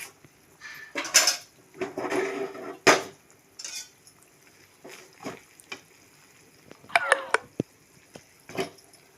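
Rice being added to melted jaggery in a cooking pan, with scattered metallic clanks and scraping of a spoon against the vessel, intermittent and close, with quiet pauses between strokes.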